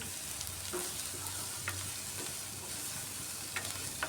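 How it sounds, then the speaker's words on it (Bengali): Garlic and onion sizzle steadily in a pan, a constant hiss with occasional soft clicks of a spatula stirring. "রসুন আর পেঁয়াজটাকে ভাজছি"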